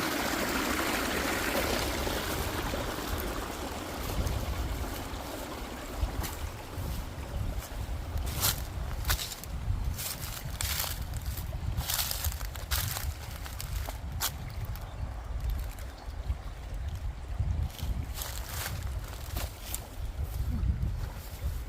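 Clear, cold stream water running and splashing as vegetables are rinsed in it outdoors in rural Germany, a steady nearby flow with intermittent sharper splashes and handling sounds.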